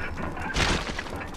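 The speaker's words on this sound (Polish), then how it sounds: "Czterema strzałami z shotguna." Shotgun fire in the survival horror video game Resident Evil 7, a broad booming blast swelling mid-clip over a dense, noisy game soundscape.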